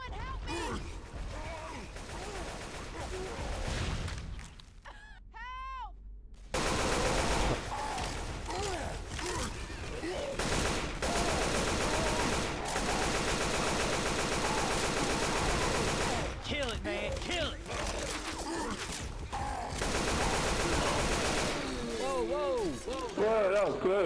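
Gunfire from the video game Left 4 Dead 2 on a custom map, with dense bursts of shots and clattering mechanisms, mixed with game music and character voices talking.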